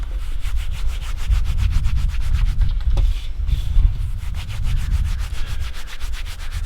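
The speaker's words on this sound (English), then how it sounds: "Seed cleaning ends up being a lot of rubbing." Seeds are rubbed over seed cleaning screens in rapid rhythmic strokes, a loud, close, gritty scraping that continues alone with no talk.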